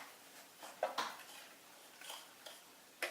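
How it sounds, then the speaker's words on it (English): A spoon stirs a cherry fruit pie mixture in a pot, giving quiet scattered clinks and scrapes with a few sharper knocks against the metal. "And we're just going to stir"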